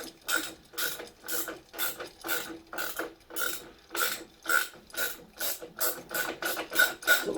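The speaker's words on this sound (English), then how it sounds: "Oh, the ratchet?" A ratchet clicks steadily as it turns bolts on a bicycle mudguard, the rapid pawl ticks arriving in regular bursts of about two per second, close and clear with no talking.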